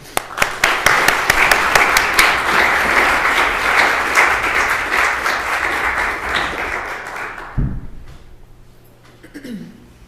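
A library audience applauds to welcome a speaker before a talk on B. R. Ambedkar, steady loud clapping from many hands that tapers off after several seconds, followed by a thump and faint rustling.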